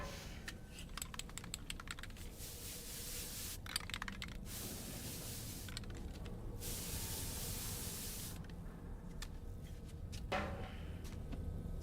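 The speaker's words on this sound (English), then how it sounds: "Spray on hair dye." Hair dye sprays on in Death Stranding 2 as a long, loud, steady hiss that runs for several seconds with brief pauses, mixed with rapid clicking from a keyboard.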